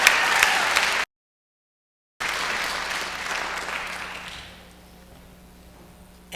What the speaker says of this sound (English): Let's give another round of applause to Outsiders.